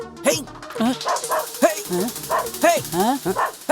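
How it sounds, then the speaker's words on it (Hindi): Several dogs barking in rapid, irregular yips and bow-wows close by, mixed with whines, filling the whole moment without pause. "कुत्ते कहाँ भौंक रहे हैं?"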